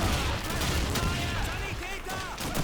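Dense gunfire in Call of Duty 2 in a desert battle, rapid overlapping shots and bursts crackling continuously under a speaking voice.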